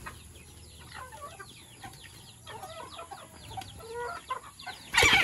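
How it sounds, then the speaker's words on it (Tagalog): A neighbor's hen is being caught and clucks and squawks in agitated, irregular bursts close by, ending in a loud rustling scuffle. "Huli na ang manok ng kapitbahay."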